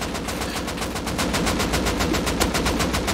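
Rapid automatic gunfire from the survival video game Rust, a steady stream of closely spaced shots fired in a sustained burst that stays loud and close for the whole stretch.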